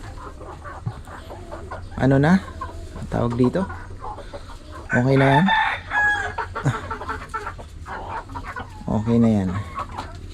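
Darag chickens cluck and crow in a backyard coop, with bursts of fowl calls mixed under and between stretches of close conversational speech.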